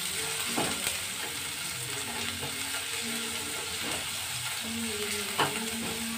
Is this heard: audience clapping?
no